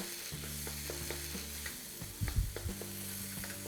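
A spoon scrapes and stirs mashed potato filling for vada pav in a sizzling pan, soft and close, with a few louder clanks near the middle and no speech.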